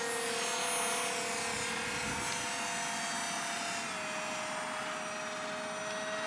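A micro RC parkjet built as a Soviet Buran space shuttle flies with a continuous high electric motor and propeller whine. The tone shifts slightly partway through and stays steady and fairly close throughout, with no voices.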